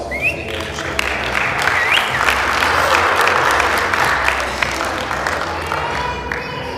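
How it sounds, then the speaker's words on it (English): A wedding crowd applauds with sustained, dense clapping that holds steady for several seconds before easing slightly, with a few voices mixed in. "So give yourselves a round of applause."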